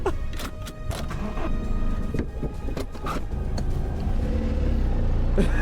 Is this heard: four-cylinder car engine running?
yes